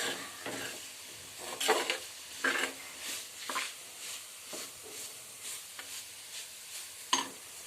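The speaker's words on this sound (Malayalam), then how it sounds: "ഇങ്ങനെ നന്നായിട്ട് ഇളക്കി വഴറ്റി കൊടുക്കും" Carrot thoran being stirred and sautéed in a pan, with a spatula scraping in a steady rhythm of strokes over a light, continuous sizzle, close and moderately quiet, with no talking.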